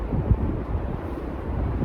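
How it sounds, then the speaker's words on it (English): Strong wind gusts through the woods at a tarp camp, a loud, steady low rumble buffeting the microphone with a sharp gust near the start. "because it is very, very, very windy today"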